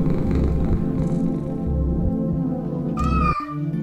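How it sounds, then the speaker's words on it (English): A cat meows loudly over steady game music in the video game Lone Survivor, a single drawn-out call rising near the end, close and clear. "Meow."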